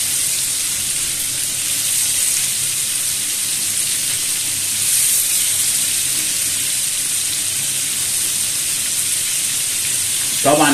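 Crispy fish fillet frying in hot oil, a loud, continuous hiss and crackle that holds steady throughout with a small clink near the end.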